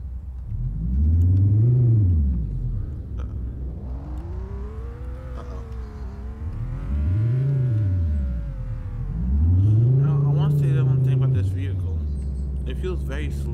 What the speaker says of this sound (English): the sound of this car is not exactly good.